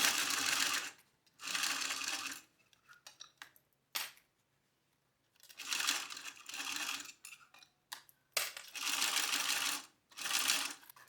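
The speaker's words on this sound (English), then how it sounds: "now we're going to sew this together at 1/4 of an inch seam allowance." A sewing machine stitches a quarter-inch seam on a sunglass case in several loud, close bursts of rapid whirring, separated by pauses with small clicks and handling noises.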